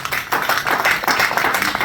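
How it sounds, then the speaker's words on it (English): A room full of people applauds candidates at an Ontario riding political debate, a dense, steady patter of many hands clapping close by for the full stretch. "How about a round of applause for everybody?"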